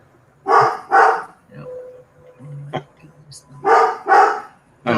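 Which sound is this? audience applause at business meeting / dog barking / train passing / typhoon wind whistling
dog barking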